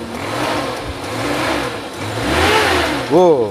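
A carburetor car engine is revved from a smooth idle, the pitch climbing in a rising sweep before it settles, loud and close.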